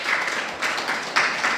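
A church congregation claps together during a pastor's service, a brief burst of clapping in a few swelling waves, fairly close and loud with no clear speech over it.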